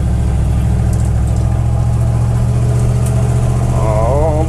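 An abandoned Dodge Power Wagon service truck's engine drones steadily as it rolls, a loud, close, continuous low rumble with a brief rising whine near the end.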